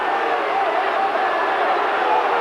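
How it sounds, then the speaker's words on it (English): A large rugby league crowd at the 1989 Challenge Cup Final between St Helens and Wigan, a steady sustained roar of booing and jeering from the stands as people run onto the field, distant and unbroken. "the booing you can hear is for the few people who run onto the field"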